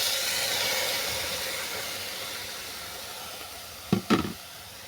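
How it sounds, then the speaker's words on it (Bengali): Chopped watermelon hits a hot wok in a Bengali kitchen, giving a broad, steady hiss of steam and sizzle throughout, with a couple of brief wooden knocks near the end and no voices. "এরপর কড়ার মধ্যে দিয়ে দিলাম কুচানো তরমুজ"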